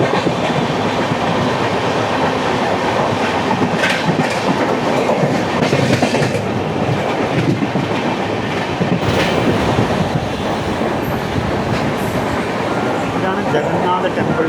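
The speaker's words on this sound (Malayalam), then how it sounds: "ഇതാണ് എറണാകുളം പുനെ സൂപ്പർ ഫാസ്റ്റ് പൻവേൽ വഴി പോകുന്ന ട്രെയിനാണ്" A Superfast Express train on the Ernakulam–Pune route via Panvel rolls past close by in a continuous loud rumble of wheels and rail clatter, with rhythmic clickety-clack throughout and no talk.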